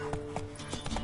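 A horse gallops in The Witcher 3, its quick hoofbeats thudding in a fast, even rhythm for about a second, faint under a steady game soundtrack.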